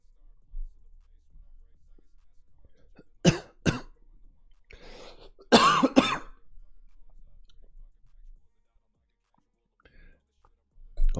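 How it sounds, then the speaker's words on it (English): Several short, sharp coughs break a quiet room, a few in quick succession, with soft whispering and faint clicks between them. "Why am I coughing?"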